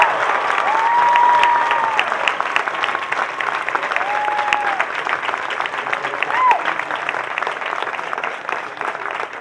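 A large audience at a law school commencement ceremony breaks into steady, prolonged applause for award winners, loud and continuous, with a few voices and whoops rising briefly above it.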